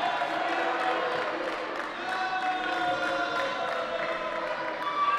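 A wrestling arena crowd at a live show roars and murmurs in reaction, a sustained wash of cheering and booing voices at a distance, with a commentator talking over it.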